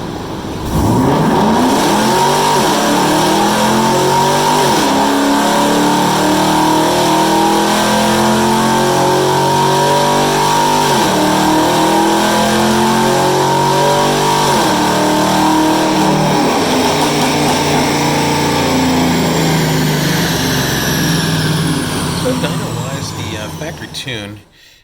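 A tuned car's engine revs hard through a shift point test, loud and close, pitch climbing repeatedly through gear changes in a sustained run before cutting off at the end.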